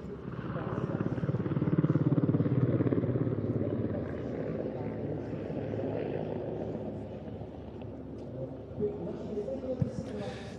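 Czech Air Force Mi-35 Hind and Mi-171SH helicopters running in for an air show display, a moderately loud rotor and turbine drone swelling then easing, with a commentator talking over it.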